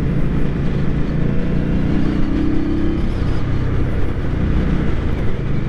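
A 2023 Indian Scout motorcycle engine pulls steadily in third gear, a loud, continuous low drone with wind rush, briefly rising in pitch midway as it builds speed.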